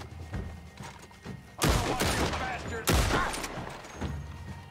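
Sniper gunfire in the game Red Dead Online: two loud, sharp shots a little over a second apart, each with a booming, decaying tail, over a quieter background with faint talk.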